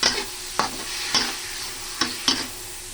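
Chicken liver and gizzard frying in a hot pan sizzle steadily while a utensil stirs and scrapes in quick, repeated strokes, close and clear, with no talking.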